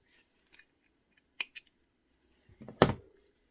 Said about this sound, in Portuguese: e cortar o fio